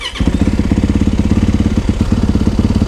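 A Yamaha WR450F dirt bike fitted with an exhaust silencer idles and burbles close by, a steady pulsing thump with a few brief blips of throttle, loud and alone throughout.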